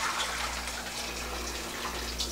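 Hot noodle broth for spicy kimchi kalguksu poured through a sieve in a kitchen sink, a steady close rush of splashing liquid with no pauses.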